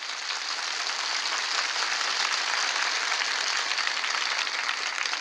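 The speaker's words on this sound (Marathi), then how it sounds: "त्या परभणीसाठी जोरात टाळ्या वाजवा" A crowd at a political rally in Parbhani claps in a dense, even wash of applause that holds steady and fairly loud from start to finish, with no voices standing out.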